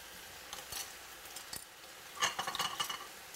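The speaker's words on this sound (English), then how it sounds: "Raise the flame to high and stir it together quickly so that it all mixes well together" Chopped basil and salt get stirred in a pan over a high flame, with quiet scraping and clinking of a utensil against the pan, a few faint strokes then a livelier burst near the end.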